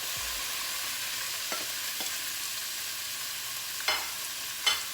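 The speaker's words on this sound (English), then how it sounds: "So let's go ahead and add in our flank steak." Flank steak fries in oil in a pan, making a continuous close sizzle with occasional spatula scrapes and knocks as the meat is moved around.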